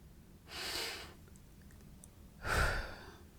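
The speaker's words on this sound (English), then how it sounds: "Take a deep breath." Two slow, deep breaths, a long airy inhale then a heavier exhale, close and fairly quiet against a still room, with no talking.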